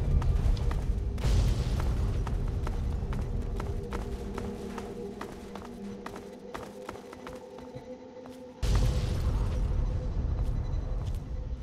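Explosions and booming blasts in Fallout 3, with heavy low rumble throughout, rapid crackling impacts in the middle stretch, and a fresh loud burst near the end.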